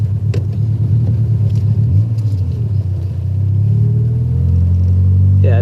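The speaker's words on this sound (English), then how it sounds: "I'm gonna try and turn the car around here." A Honda Prelude turning around on grass, its engine rumbling steadily at low revs, then rising in a sustained drone as it pulls away, heard loud from inside the car with no talk.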